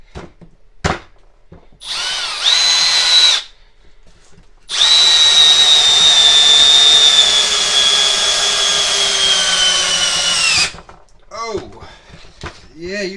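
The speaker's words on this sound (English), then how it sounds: "It's pretty impressive, actually, for a drill, a 12 volt to run a, what's this, 4-inch lag bolt." A Milwaukee M12 FUEL 12-volt hammer drill/driver drives a 4-inch, 3/8 lag bolt into wood, giving a short whir and then a long, loud, straining whine that winds down, with people talking before and after.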